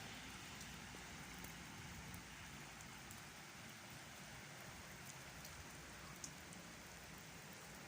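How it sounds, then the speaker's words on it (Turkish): Heavy rain falls steadily on a cold evening in Akçaabat, a constant dense hiss of drops on surfaces with occasional sharper ticks, quiet and unbroken throughout. "Çok yağmur yağıyor arkadaşlar"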